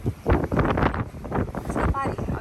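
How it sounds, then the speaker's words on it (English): Gusty wind buffets the deck of a trawler at anchor, coming in close loud bursts against the microphone, with brief speech among them. "Nope, too windy."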